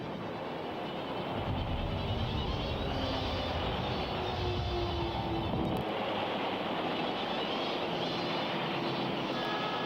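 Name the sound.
Japanese warplanes attacking in 1945 battle footage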